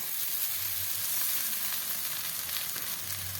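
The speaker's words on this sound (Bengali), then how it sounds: "এবারে আলুটা ভাজা হয়ে গেছে দিয়ে দেবো এই যে চিড়েগুলো" Flattened rice tipped into a pan of fried potatoes sizzles steadily, a continuous hissing fry with a few faint low stirring knocks and no talking.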